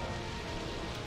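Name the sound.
rain falling in the video game Pokémon Colosseum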